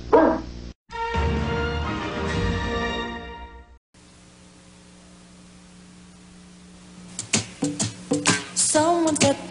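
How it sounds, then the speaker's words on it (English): A dog barks in a few sharp, close bursts near the end, following a stretch of noisy static and louder mixed sound earlier on. "Sit, Boo Boo, sit. Good dog"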